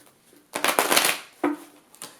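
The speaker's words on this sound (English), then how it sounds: "So I'm going to shuffle these personality cards" Two quick riffling bursts of personality cards being shuffled, one longer then a shorter one, crisp and close.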